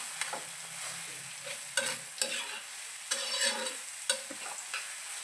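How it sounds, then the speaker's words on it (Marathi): Mashed eggplant bharit mixture being stirred and roasted in a pan: quiet scraping spoon strokes at an irregular rhythm over a soft background sizzle, with no voices. "सगळं मिक्स करून घ्यायचं, छान भाजून घ्यायचं."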